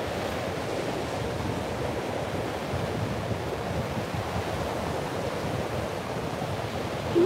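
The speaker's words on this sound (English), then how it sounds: "Man, it's chilly down here in that wind" Chilly wind blowing outdoors, a constant broad rushing roar that stays steady and fairly loud throughout, with no voices.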